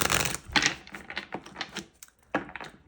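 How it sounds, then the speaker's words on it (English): Rapid papery riffling of a large tarot-style deck being shuffled one half at a time, in several quick bursts with brief pauses, close by and moderately loud. "So usually with this deck, I shuffle it."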